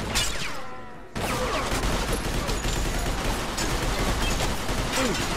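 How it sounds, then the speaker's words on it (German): Dense, continuous Mafia II gunfire as gangsters shoot up their own house: rapid overlapping bursts and shots, close and loud throughout, with a short lull near the start. "die schießen ja ihr eigenes Haus kaputt"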